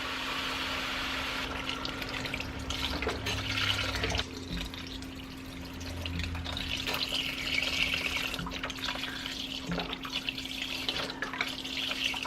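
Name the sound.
chicken stock being poured into a pot of soup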